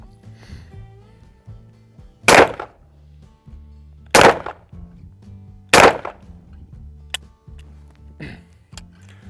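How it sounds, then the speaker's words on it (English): A pistol fires three shots at a range, the first single action and the next two double action, each a sharp, loud crack spaced roughly two seconds apart, over low background hum. "3 rounds this time. Gonna be single action on the first one, double action on the next 2"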